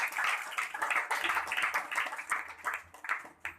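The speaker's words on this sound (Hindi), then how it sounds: "एक बार खुदा के काम के लिए और तालियां लगाएंगे।" Congregation at a religious gathering in Karachi clapping for God's work, a moderate patter of many hands with uneven surges, fairly soft and without talk.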